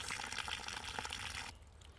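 Water drains out of an automatic chicken drinker tank in a steady close splashing gush that cuts off abruptly halfway through, leaving a faint trickle.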